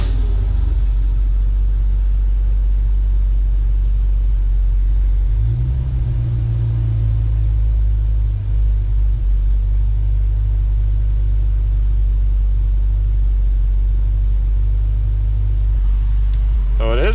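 A 1966 Ford Mustang fitted with Sniper EFI fuel injection runs at a loud, steady low idle with a deep rumble, the pitch lifting briefly midway as throttle is blipped.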